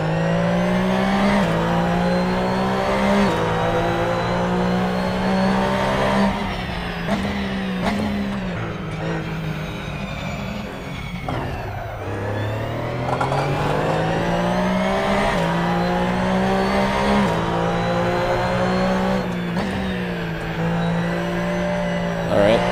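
A simulated race car in Assetto Corsa roars through a lap, its engine climbing and falling through gear changes and a deep dip in revs for a corner, loud and continuous throughout.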